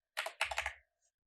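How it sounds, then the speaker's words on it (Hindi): A quick burst of close, crisp computer keyboard keystrokes as a password is typed into an Excel protect-sheet box, a few rapid taps followed by silence. "यहाँ पर आप अपना पासवर्ड टाइप करें"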